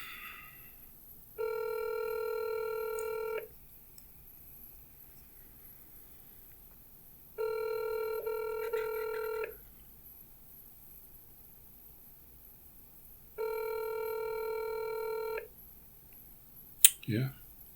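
Phone call ringing through on the line: three long, evenly spaced ringback tones sound, each lasting about two seconds with quiet gaps between, followed by a brief click at the end.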